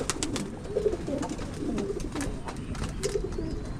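Bayo pigeons coo softly in a loft, with repeated low, burbling calls mixed with light clicks and rustles, moderately close and without talk.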